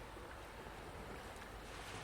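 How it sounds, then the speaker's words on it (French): Ocean waves wash in and out in a steady, soft roar of surf, with faint wind noise and no voices. "peut-être le bruit des vagues qui vont et qui viennent comme un mouvement agréable"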